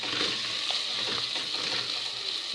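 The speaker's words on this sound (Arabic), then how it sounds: "بحمرها قوي قوي عشان بتدي اللون الرز تبقى بني كده غامق" Onions frying in a pot, cooked until dark brown, give a steady close sizzle with a few soft stirring clicks and no speech.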